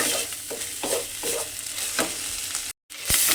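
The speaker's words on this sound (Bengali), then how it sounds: "আদা বাটাটা আমি এর মধ্যে দিয়ে দিলাম দিয়ে এবারে মশলাটা আমাকে একটু কষে নিতে হবে" Spice paste with ginger paste sizzles in a pan. Rhythmic stirring scrapes come roughly every half second, and a brief gap near the end breaks the steady fry.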